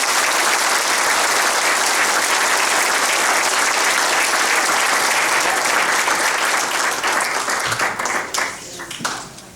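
Sustained, dense applause fills a hall of fame ceremony for a former college offensive lineman. It holds steady and loud, then thins into scattered claps near the end.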